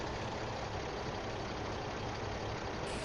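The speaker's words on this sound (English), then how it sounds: "in my filthy-ish tractor" Tractor engine idling in Farming Simulator 15, a steady low rumble holding at an even level throughout with no talk over it.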